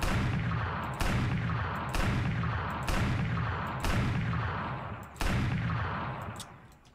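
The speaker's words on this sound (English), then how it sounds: "Let's use the silent hand cannon." A silenced hand cannon fires in the SurrounDead video game, six heavy muffled shots spaced about a second apart, each a sharp thud with a long fading tail, loud and without talk.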